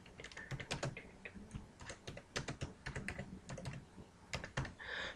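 Quick, quiet keystrokes on a computer keyboard rattle in a steady stream of light clicks, with a few short pauses between bursts of typing and no talking.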